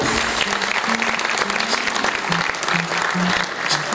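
Sustained, dense applause fills an awards ceremony hall at the 2018 Tecoma Award as the entrepreneur of the year for La Réunion is called up, loud and steady throughout, with faint music tones running beneath the clapping.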